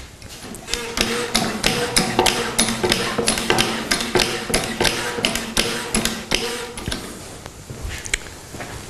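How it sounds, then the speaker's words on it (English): Repeated pumping of the hydraulic handle on a counterbalanced drum de-palletiser, giving a steady rhythm of sharp metallic taps and clunks, close and fairly loud, continuing throughout without talk. "So let's pump the handle."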